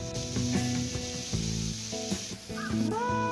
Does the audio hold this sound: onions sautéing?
yes